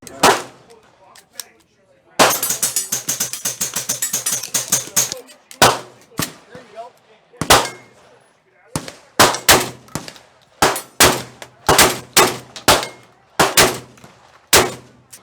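Gunfire at an outdoor shooting event: a long rapid automatic burst followed by a string of loud, sharp single shots and short bursts with brief pauses between them, close and echoing.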